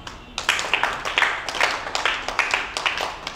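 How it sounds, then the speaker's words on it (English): Children in a classroom clap together during a spelling game, a quick run of sharp, roughly rhythmic claps at moderate loudness, close by, with a few hands slightly out of step. "Give him a big clap"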